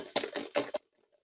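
Two dice shaken together and rolled onto a surface, a few short clattering bursts close by, then silence.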